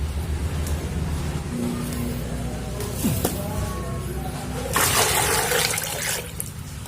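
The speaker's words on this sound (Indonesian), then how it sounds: "Kita tambah airnya." Water poured onto red ginger seed rhizomes being soaked for planting, a continuous rushing, splashing pour that swells louder toward the end, close, with no speech over it.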